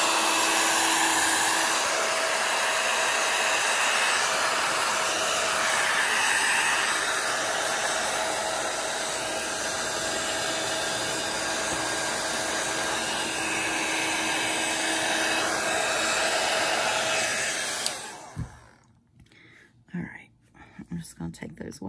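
A heat gun blows steadily on alcohol ink artwork, a loud continuous airy roar that runs for about eighteen seconds before cutting off, leaving faint handling noises and quiet murmuring.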